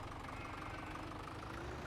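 A small tractor engine idles in Farming Simulator 17, a steady low rumbling drone held at an even level for a brief moment, fairly quiet and with no voices.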